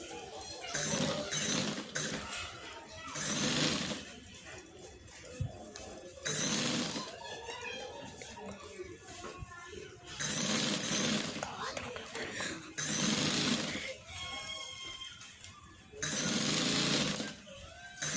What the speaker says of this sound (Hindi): ऐसे ही मैं दूसरी साइड पे सिलाई को ख़त्म कर दूंगी